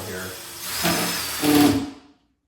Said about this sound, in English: drill your pilot hole first, that could be good because you can see the top of my drill is spinning